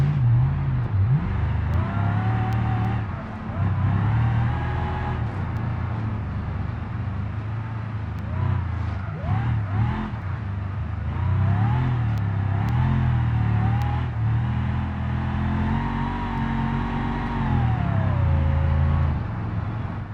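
Simulated car engine in BeamNG with an automatic transmission, driving as a taxi, revving up and dropping pitch as it shifts from second straight into fourth, steady and close throughout with rising and falling engine tones.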